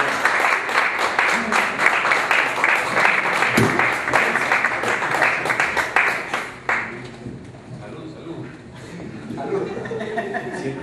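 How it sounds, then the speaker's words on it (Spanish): Loud, dense applause from a concert audience cheering for the band, with clapping, whistles and chatter swelling for several seconds before thinning out toward the end. "Un aplauso fuerte para ellos, por favor."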